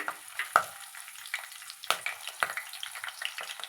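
Chopped green chillies sizzle and crackle in hot oil, with irregular sharp pops and stirring scrapes over a constant hiss.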